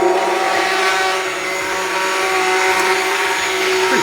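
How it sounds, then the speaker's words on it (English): Immersion blender whirring steadily through a batch of eggnog, a loud continuous motor drone with harmonic whine, close and unbroken for the whole stretch with no talking. "using an immersion blender instead of a traditional blender"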